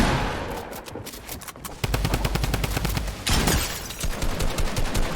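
Rapid Tommy gun bursts in a shooter video game, loud and close, with dense rattling volleys running almost without break and a couple of heavier flurries.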